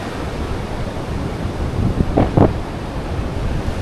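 Sea surf on a beach at Binmaley, a steady broad wash of waves with wind buffeting the microphone and a couple of brief louder bursts midway.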